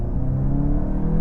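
A 2025 VW GTI, a front-wheel-drive hot hatch, pulls hard out of a turn, its engine a steady close droning rumble with rising tone throughout the short burst, no talking.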